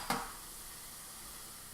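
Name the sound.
onions and garlic sauteing in olive oil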